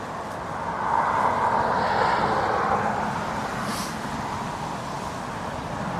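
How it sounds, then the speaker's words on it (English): A Ryanair airliner from Stansted goes around at windy Dublin Airport, its broad engine roar swelling and holding steady at a distance amid gusty wind, with no talk. "So our Stansted Ryanair is going around."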